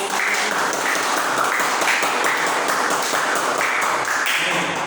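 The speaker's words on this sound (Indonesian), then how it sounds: "tepuk tangan untuk kelompok" Classmates clap for a presenting group in a classroom, dense, continuous, loud applause from many hands close by, with no talking over it.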